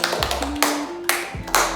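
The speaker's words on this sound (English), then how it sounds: "Give applause." Short classroom applause, a few sharp hand claps spaced out over under two seconds, close and moderately loud, with no talk.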